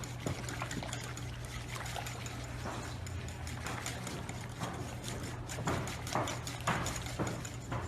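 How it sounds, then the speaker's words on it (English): A whisk stirs sifted flour into Far Breton cake batter in a bowl, soft irregular tapping clicks and wet swishing at close range, fairly quiet, with no talk. "So here I'm just gonna add the sifted flour. So whisk it through."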